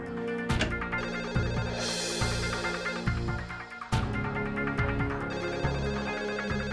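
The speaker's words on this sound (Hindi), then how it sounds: "तब तक फोन की घंटी बजने लगी" A telephone bell rings loudly and continuously in a courtroom crime drama, its trilling repeated over a steady background music bed.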